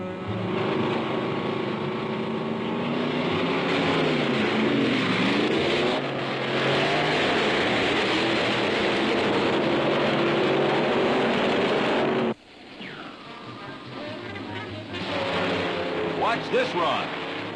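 A drag racing dragster makes its run as a loud, sustained engine roar with rising and falling pitch. A narrator talks over it, and after a sudden drop the engine noise returns.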